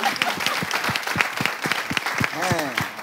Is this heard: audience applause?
yes